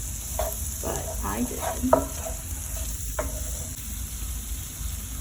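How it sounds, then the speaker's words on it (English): Onion sautéing gently over low heat until translucent, a soft continuous sizzle with a few scraping stirs of the pan, heard close under brief talking. "You want to low heat. Make the onion look translucent."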